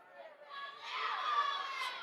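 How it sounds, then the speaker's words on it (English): Crowd filing into a high school basketball game gym between Washington Co and Marion Co, a swelling murmur of chatter and distant voices building up, with some children's shouts mixed in. "Crowd starting to file in."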